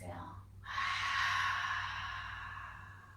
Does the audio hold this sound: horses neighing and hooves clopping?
no